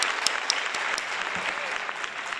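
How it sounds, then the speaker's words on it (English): Audience applause at a pastry competition awards event, steady clapping from a crowd filling the whole moment, fairly close and even with a few sharper individual claps standing out. "Can we have a huge round of applause,"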